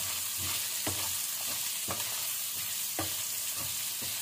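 Chicken pieces frying with ginger in a pan for chicken cutlets, a dense, continuous sizzle punctuated by regular scraping stirs roughly every half second, close and alone without speech.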